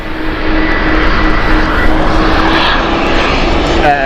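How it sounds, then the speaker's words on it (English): A TUI Boeing 737 MAX at Gatwick Airport, its engines producing a loud, close, sustained roar with a steady whine running through it, no voices. "TUI 737 MAX here"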